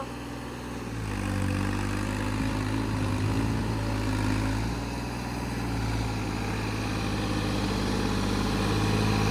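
Swaraj 855 tractor engine labouring under load while pulling a fully loaded 22-foot trolley, a loud, steady low diesel drone with throbbing harmonics that rise slightly after the first second, running without a break.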